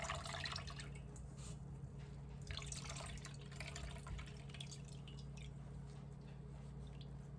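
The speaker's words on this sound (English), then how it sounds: "Right now I'm going to squeeze the bag like I did when I was making hemp milk." Liquid drips and trickles from a straining bag being squeezed after making nut or hemp milk, soft and quiet, with faint splashes over a low hum.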